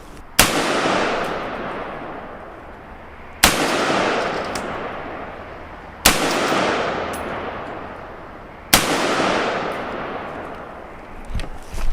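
Four loud rifle shots from an AR with a SIG MCX conversion kit crack out at an outdoor range, spaced about three seconds apart. Each sharp report rolls into a long, fading echo.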